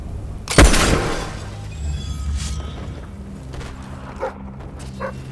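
A dog barks in the video game Fable 3, one loud sharp bark followed by softer whimpers and yips over a low background hum.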